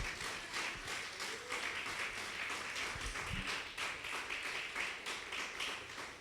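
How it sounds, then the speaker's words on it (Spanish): Rhythmic clapping from a church congregation, steady and continuous throughout, with a dense wash of hands over low rumbling room noise. "Dale palmas al Rey, dale palmas, hermano"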